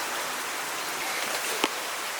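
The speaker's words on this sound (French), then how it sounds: "il se met à pleuvoir d'un coup, à torrent" Heavy tropical rain pours down in Guadeloupe as a steady, dense hiss of water with one brief louder splash. It is fairly faint and even throughout, and no one speaks.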